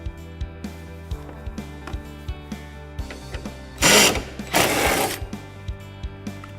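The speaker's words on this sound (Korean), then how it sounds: "먼저 후드를 코너 부분을 잡고 힌치 고정 볼트 2개를 탈거합니다." A 12 mm socket wrench ratchets rapidly with even, repeated clicks as bolts come off a car hood hinge, broken by two short louder bursts of mechanical rattle.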